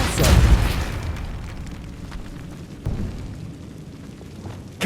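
A Repulsor spell blast in Hogwarts Legacy: a loud booming burst at the start, then a rumbling tail with a smaller thump midway and another burst at the end, close, with no voice.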